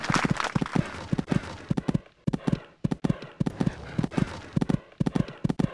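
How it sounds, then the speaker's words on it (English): Rhythmic clip-clop of a cantering horse's hooves in the Equestriad 2001 horse game, steady three-beat thuds repeating close and clear through the whole stretch with a brief gap, no talk over it. "Cantering along this part now."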